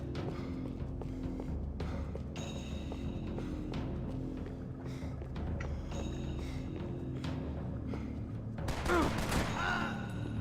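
Gunfire in the Max Payne 3 video game, a burst of rapid shots near the end over a steady game soundscape with music and ambience.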